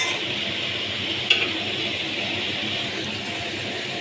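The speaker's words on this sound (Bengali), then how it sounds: "এখন আমি এঁচোড়টাকে দিয়ে দিয়েছি এবং এটাকে একটু ভালো করে কষিয়ে আমি আলুটাও এটার মধ্যে অ্যাড করে" Young jackfruit stir-fries in a pan with a soft, steady sizzle throughout and one brief sharp clink of a utensil near the start, fairly close and without voices.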